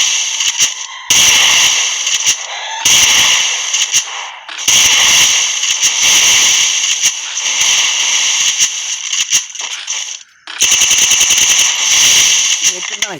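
Rapid bursts of automatic gunfire and crackling shots in a shooting video game, loud and close, coming in several long volleys separated by short gaps, with a headshot among them.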